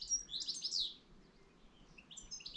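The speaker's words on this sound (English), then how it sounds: "It's a goldfinch, the one with the red face and the yellow bits on it." A goldfinch chirps in the background outdoors in Wales early in the season: two faint, quick bursts of high twittering with a quiet stretch between.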